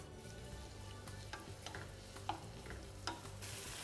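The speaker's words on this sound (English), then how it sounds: "I'm going to drizzle a little bit of olive oil in there and we're gonna start off frying up our shallots" Shallots sizzle and fry in olive oil in a pan over medium heat, a steady close crackle with occasional sharper pops and stirring scrapes, no talking.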